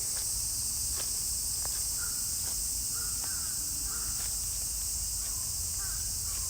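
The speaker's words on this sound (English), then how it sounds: "Yeah, the cicadas are healthy. They're everywhere. Buzzing, making noise." A constant high-pitched cicada drone fills the background in Tokyo, steady and loud, with scattered faint clicks and bird calls over it.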